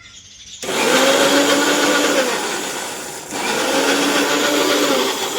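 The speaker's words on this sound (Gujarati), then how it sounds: "તો ગ્રેવી માટે અહીંયા ડુંગળી પીસાય છે" Onions ground for gravy in a kitchen blender, a loud steady motor whir that starts abruptly, dips briefly near the middle, then surges back and runs on continuously without talk.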